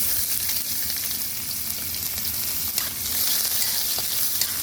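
Chopped onion frying in a pan on an outdoor wood-fired clay stove, a steady, close, loud sizzle and crackle that runs throughout, with no talking.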